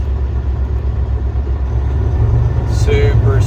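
A 2015 Kenworth T660 glider truck with a 12.7-litre Detroit diesel runs close and loud with a low, steady rumble, its engine note climbing smoothly through the revs near the end of the clip.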